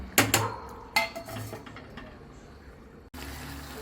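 Sambar stirred in a metal pot in a home kitchen: a few sharp clinks and scrapes of a spoon against the pot early on, then quiet stirring and a closing bump of the lid, with no talking.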